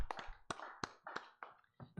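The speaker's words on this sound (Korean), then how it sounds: "하나님께 영광의 박수 드리겠습니다." Congregation clapping during a Korean Full Gospel church Sunday service, a series of sharp, fairly close claps with uneven spacing over a couple of seconds, some voices faintly underneath.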